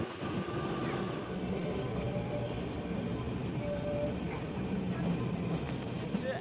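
Kalka–Shimla toy train climbing a winter mountain line gives a steady, continuous rumble of wheels and carriage noise from on board, with faint rail squeals and no clear talk.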